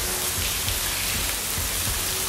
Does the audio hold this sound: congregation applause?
no